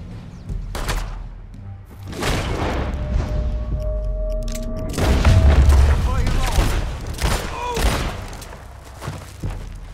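Gunfire in the Western video game Red Dead Redemption 2, a series of heavy booming shots and thuds mixed with game voices shouting, loud and dense through the middle of the scene.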